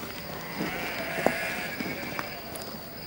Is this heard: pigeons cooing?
no